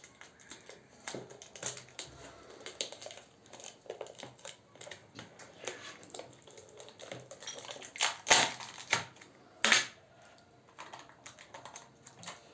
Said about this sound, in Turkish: Hadi o zaman kutusunu açalım.